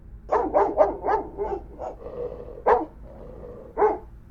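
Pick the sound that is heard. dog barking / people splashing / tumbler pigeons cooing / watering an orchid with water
dog barking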